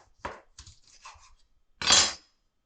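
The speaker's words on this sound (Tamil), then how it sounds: "இத வந்து இங்க கட் பண்ணணும். ஸோ, இதுக்கு ஒரு பெரிய நைஃப் வேணும் உங்களுக்கு." A large knife cuts through chicken wings on a board while preparing chicken lollipops. It gives a few short, close chopping knocks, then one louder, longer crunching cut near the end.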